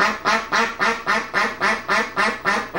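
A pet goose kept indoors calls out in a kitchen with about ten loud, honking calls repeated in an even, rapid rhythm, close by and with no talk.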